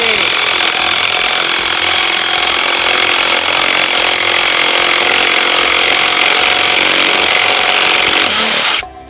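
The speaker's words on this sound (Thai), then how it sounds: "ขันสกูเข้ามาเนี่ยเป็นเรื่องง่ายๆเลยนะครับ" A Canlidi cordless brushless impact wrench rated at 1000Nm drives a screw into wood, a loud continuous high-speed whirr with hammering texture that runs steadily and stops abruptly at the end.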